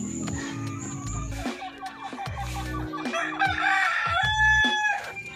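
A caged native chicken pullet clucks and calls up close, with clear repeated vocalizations and some rustling, loud and prominent throughout.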